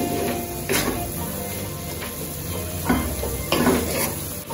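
Minced beef fries over a raised flame in a pan, a steady close sizzle broken by several louder scraping stirs of a utensil against the pan, with no voices.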